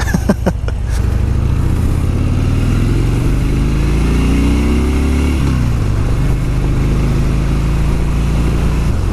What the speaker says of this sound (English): let me check my battery and then let's go take this thing for a ride.